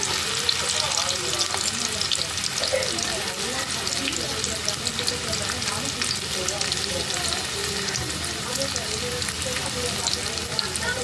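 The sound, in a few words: onions frying in hot oil until golden brown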